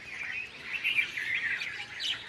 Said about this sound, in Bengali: ওই জন্য পাখিরা দেখুন কত এসেছে।